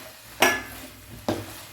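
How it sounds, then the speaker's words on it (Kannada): Fried prawns being tipped and stirred into sauce in a pan, two sharp scraping, sizzling strokes about a second apart, close and clear with quieter frying hiss between. "ನಾನೀಗ ಇದು ಪ್ರಾನ್ಸ್ ಫ್ರೈ ಮಾಡಿಟ್ಟಿದ್ದೇನಲ್ಲ, ಅದನ್ನು ನಾನು ಇದಕ್ಕೆ ಹಾಕಿ ಮಿಕ್ಸ್ ಮಾಡ್ತೇನೆ."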